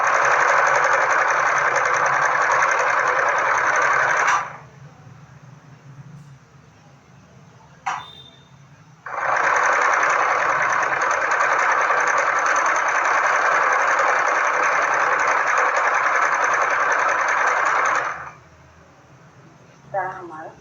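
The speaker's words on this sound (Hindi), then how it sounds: "किनारे से लेते हुए पूरी बॉटम तक सिलाई करनी है।" A sewing machine stitches along the bottom hem of a salwar in two long, steady bursts of rapid whirring, separated by a pause. A short click falls in the gap between them, and quiet background hum continues beneath.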